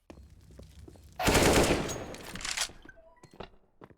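An AK-style rifle fires a rapid, loud burst in an esports match of a first-person shooter, followed by a fading echo and a few faint game clicks.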